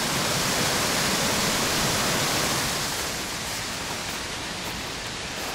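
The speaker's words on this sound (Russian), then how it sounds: "И вот тут каскадные водопадики" Continuous rushing splash of a small cascading waterfall in Germany in winter, close by, a dense broad hiss that eases slightly partway through.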